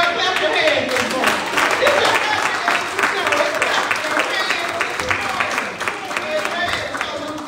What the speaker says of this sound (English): Clap your hands this morning